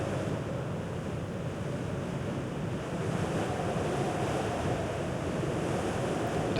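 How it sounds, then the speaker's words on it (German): Wind sweeping across the landscape in the video game Sanctuary, a steady, full rushing roar with a surf-like wash that stays constant throughout, with no voices. "Und der Wind ist in der Tat sehr cool gemacht. Man sieht ihn nicht, aber man hört ihn."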